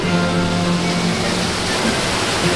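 Steady broadband roar of a waterfall at Europa Park in winter, continuous and dense throughout with no pauses, heard close and fairly loud without speech over it.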